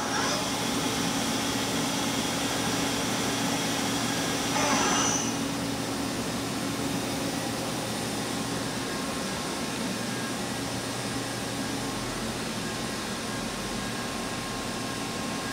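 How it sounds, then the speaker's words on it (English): A Kuraki KV-1000 three-axis vertical machining center runs with a steady, broadband mechanical hum and whine. The sound is even and continuous throughout, with a brief swell partway through. "the following video is a Kuraki model KV1000, 3-axis vertical machining center"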